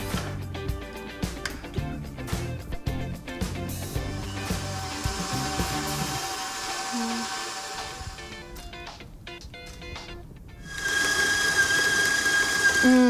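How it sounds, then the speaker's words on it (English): Electric mixer beating eggs one at a time into chocolate cake batter, a steady whirring motor with rhythmic clattering of beaters against the bowl, rising to a louder, smoother whine near the end. "Now I'm just going to beat in my eggs one at a time"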